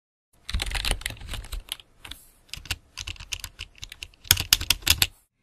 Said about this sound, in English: You'll also need lots, and I mean lots, of keyboard sounds.